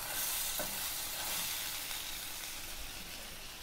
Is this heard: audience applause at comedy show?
no